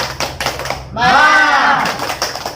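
A group of women clapping in encouragement during a PKH family development training session, a short dense round of claps following spoken instruction, with a voice speaking just before and after.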